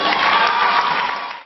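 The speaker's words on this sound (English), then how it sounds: "Round of applause." A school spelling bee audience bursts into loud, brief cheering and clapping for a contestant, the crowd noise dense and close before cutting off abruptly.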